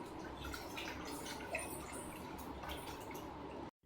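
Rice being rinsed in water gives soft, continuous splashing and trickling with scattered drips, quiet and close, cutting off abruptly near the end.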